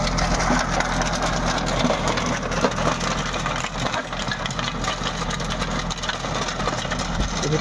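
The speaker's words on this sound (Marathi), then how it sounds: "आपला टार्गेट हा जो रोटा आहे तो सध्या त्याला लो थर्डवरती चालू आहे मित्रांनो, लो थर्ड गिअरवरती चालू आहे." A Swaraj tractor pulls a Target rotavator in low third gear, tilling soil with a steady, loud engine drone and continuous grinding, churning noise that holds even throughout, with no talking.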